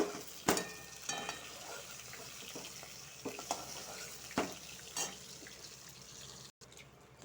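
Spice paste fries in hot oil in a kadai for a steamed fish dish, giving a steady low sizzle punctuated by several sharp scraping or clattering stir strokes, with no voices.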